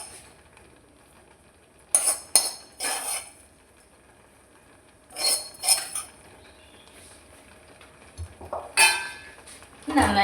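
Jackfruit erissery with fried coconut being stirred in a pot, giving several separate bursts of spoon scraping and clinking against the pot with quiet gaps between them.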